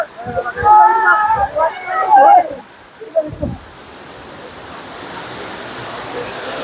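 Valanjanganam waterfall in Kerala sends up a steady broadband rush of falling water that swells and stays constant after a few seconds of people talking over it.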